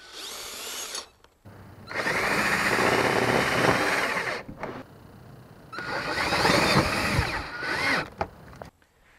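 A power drill drives self-tapping screws into a vinyl gate hinge, two long loud whirring runs of several seconds each with a short burst before them and brief pauses between, close and alone.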